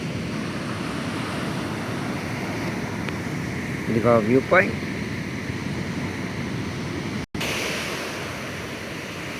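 Ocean surf breaking on a Visakhapatnam shore in the morning, a steady broad wash of waves with wind across the microphone, while someone speaks briefly over it partway through.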